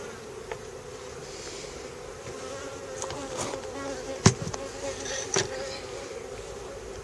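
Honey bees buzz steadily around beehives in an outdoor apiary, a continuous low drone with a few sharper close passes and brief knocks, moderately loud throughout.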